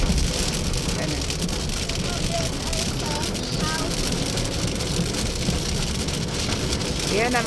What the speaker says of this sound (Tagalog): Ayan na yung ulan. Inabutan na naman kami ng ulan.